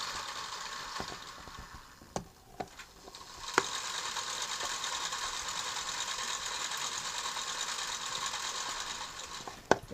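LEGO Ferris wheel crank turning gears in a toy amusement park, a steady soft mechanical whirring and clicking with a few sharp ratchet-like ticks, close and continuous.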